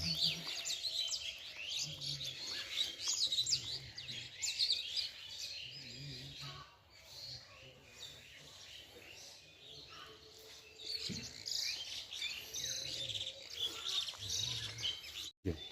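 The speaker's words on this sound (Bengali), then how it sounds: "শুনতে পাচ্ছেন কি না সকালবেলায় গ্রামে পরিবেশে পাখির কলরব একটু কান দিয়ে শুনুন" Birds chirp and call in a village on a date palm juice collecting morning, a dense steady chorus of overlapping tweets with low background rumble throughout.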